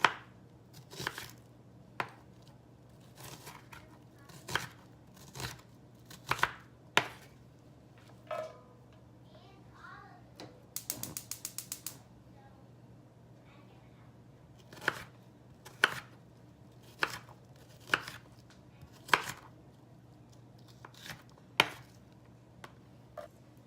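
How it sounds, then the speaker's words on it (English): A knife chops onions into small pieces on a cutting board for ratatouille. About fifteen crisp, close knocks come at uneven intervals, with one quick flurry of rapid cuts in the middle and no talking. "And I'm gonna cut them into small portions."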